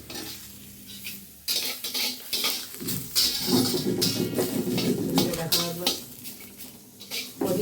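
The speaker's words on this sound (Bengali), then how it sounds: "আমি কড়াইতে বসিয়ে দিয়েছি গাজরটা" Carrot cooks in a wok, sizzling close by while a utensil scrapes and stirs in repeated strokes.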